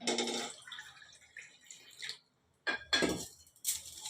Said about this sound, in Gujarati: હવે આ પાણી દઈશું આપણે